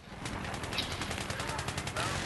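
Rapid, steady gunfire in a shooter video game, a continuous stream of closely spaced shots at moderate loudness with no talking.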